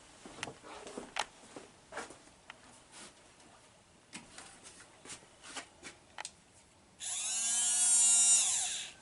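Windshield washer pump motor from a Mercedes-Benz W116/R107 runs on test after its gears are removed: light handling clicks, then a loud, high-pitched electric whir that spins up near the end and holds for about two seconds.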